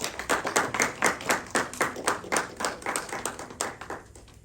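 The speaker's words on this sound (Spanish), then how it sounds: "Demos una ofrenda de aplausos al Rey" A church congregation claps in a steady, regular rhythm, loud and close, gradually tapering toward the end.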